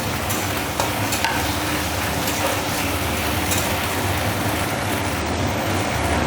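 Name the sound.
frying ginger garlic paste with onions in pan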